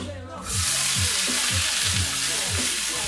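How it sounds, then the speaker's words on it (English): Vegetables hit olive oil in a hot sauté pan, giving a loud, steady broadband sizzle that swells after a quiet start and holds, with low scraping thuds as they are tossed. "Next thing I'm going to do is I'm going to saute my veg."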